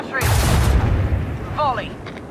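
Starship weapon battery fires in Rogue Trader WH40K, a heavy booming volley with rumbling low end and bright crackle. A voice speaks briefly over it, and a second synthetic tone follows.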